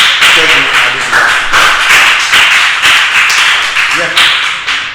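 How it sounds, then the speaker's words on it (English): Audience applause at a storytelling masterclass, a loud close run of clapping that swells in repeated bursts, with voices mixed in beneath the clapping. "Another round of applause."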